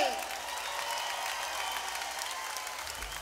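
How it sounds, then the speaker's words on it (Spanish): Audience applause at a live salsa concert, a dense wash of clapping hands that holds steady for a few seconds with a hint of crowd voices. "Aplauda con las dos manos para que se escuche."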